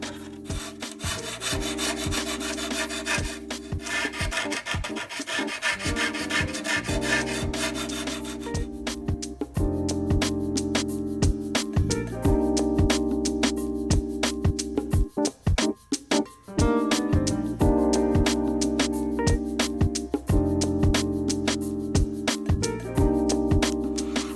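Continuous rasping and sanding on the wooden sound holes of a guitar being built, steady back-and-forth scraping with some rhythmic strokes, close and fairly loud, no talking.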